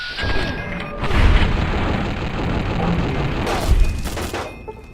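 An M60 machine gun fires in Fallout New Vegas, a dense run of loud, booming, crashing bursts. The close, harsh gunfire continues for several seconds with surges near the start and the end.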